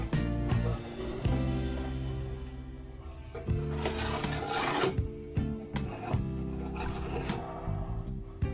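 Steady rough rasping strokes of a rasp shaving body filler, scraping back and forth over a hard surface, repeated continuously and close up, with no talking.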